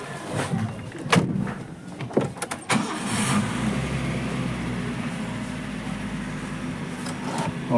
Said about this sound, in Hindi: चलिए हम स्टार्ट करते हैं अब अपनी गाड़ी।